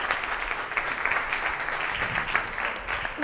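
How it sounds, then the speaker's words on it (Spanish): Applause from an audience at a startup presentation in an innovation centre, a moderate, even patter of clapping from a modest crowd that holds steady throughout without speech over it. "un fuerte aplauso para ellos"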